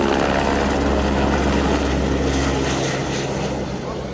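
A tourist ride helicopter at Ayodhya runs loud and near, its rotor and engine giving a steady, continuous thrumming roar with a faint crowd in the background.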